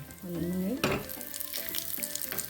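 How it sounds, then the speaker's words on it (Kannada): Cashews and raisins frying in hot ghee for sweet mung bean payasam, a steady close sizzle with stirring scrapes throughout. "ತುಪ್ಪ ತಗೊಂಡು ಹಾಕೊಳ್ಳಿ ಇದಕ್ಕೆ ಕಾದ ಮೇಲೆ ಗೋಡಂಬಿ ದ್ರಾಕ್ಷಿ ಹಾಕ್ಕೊಂಡು"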